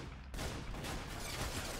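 Rapid gunfire from the Roblox game Arsenal, a dense continuous burst of shots that jumps in loudness after a brief quieter start and keeps going steadily to the end.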